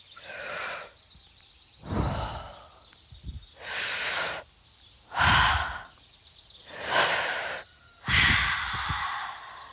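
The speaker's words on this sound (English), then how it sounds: "Take a deep breath in Hold it for a few seconds. Now breathe out." Slow, deep breaths drawn in and pushed out in a calm breathing exercise, each airy inhale and exhale close and audible, alternating in long hissing swells with brief pauses between, no talking.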